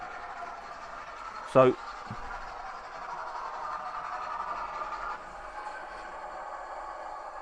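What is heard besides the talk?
Hornby Scotsman model train locomotive coming to an abrupt halt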